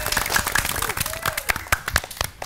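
A TV quiz show studio audience applauds after a correct answer, with a fairly loud, dense patter of clapping and a voice talking over it.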